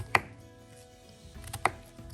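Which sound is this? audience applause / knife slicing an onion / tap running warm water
knife slicing an onion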